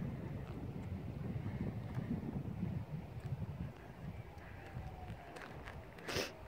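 Wind blowing outdoors at a lake near Hardin Flat Road, Yosemite, a steady rushing buffet across the microphone, with some faint knocks and rustles.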